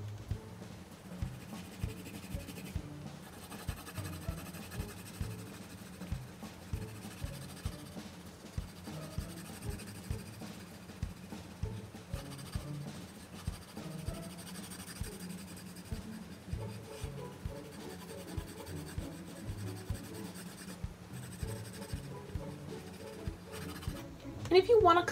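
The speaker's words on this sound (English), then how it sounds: "I'll go ahead and take my red and just carefully color inside the lines." A colored pencil, red, scratching steadily across paper as it carefully fills in shapes within lines, a close, continuous rhythmic scratching of repeated short strokes throughout, with a faint voice in the background.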